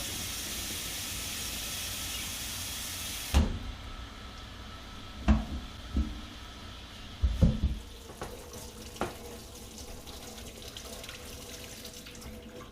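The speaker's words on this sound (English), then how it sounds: "Now I'm going to pour a whole container of just hot water down the barrel." Hot water is poured from a container down a muzzleloader rifle barrel during cleaning, a steady close rush of liquid that stops abruptly, followed by several hollow knocks and clunks.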